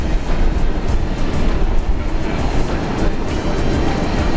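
A Jetstar airliner at Brisbane International Airport, a loud, steady broadband jet roar with a rumbling low end, sustained and close throughout.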